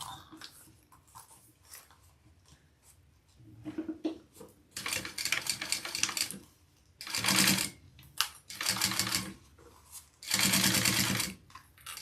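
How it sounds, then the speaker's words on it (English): A sewing machine stitches a pocket closed in several separate bursts, each a few seconds long, with soft handling and fabric rustles in the quieter gaps between runs. "we're going to sew it closed right along there"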